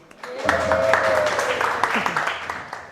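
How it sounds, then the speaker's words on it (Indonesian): A classroom group claps together in a sustained burst of applause, a dense patter of many hands that swells quickly and then slowly tapers off over a few seconds. "Aplaus dulu."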